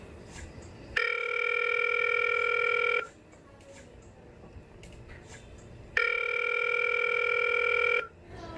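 Telephone ring-back tone while calling someone, two long electronic ring bursts of about two seconds each separated by a pause, clear and close with faint background noise.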